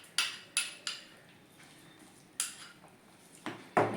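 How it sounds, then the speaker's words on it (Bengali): Metal strikes a cooking pot as a dish is stirred after the hot tempering is poured in, producing a few sharp clanks and taps spread unevenly through a quiet background with no speech. "এরপর এটা এইভাবে নেড়ে নিলাম।"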